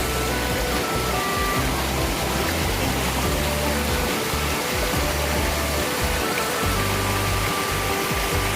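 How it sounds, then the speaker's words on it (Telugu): A small mini waterfall and the stream below it pour and rush steadily, a loud, close, unbroken wash of flowing water with no voices. "Mini water falls."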